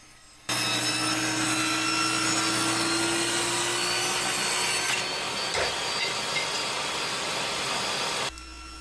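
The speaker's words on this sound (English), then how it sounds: "Here comes the first kickback." A table saw cutting wood for an end grain cutting board kicks back and throws an offcut. The blade's steady loud whine runs for several seconds, then a single sharp knock breaks in mid-cut, and the saw cuts out near the end.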